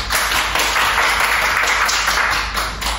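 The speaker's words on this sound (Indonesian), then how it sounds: "kita beri tepuk tangan untuk dia" Classroom of students clapping for a classmate during a micro-teaching lesson, a brisk, continuous patter of many hands at moderate distance, fairly loud throughout.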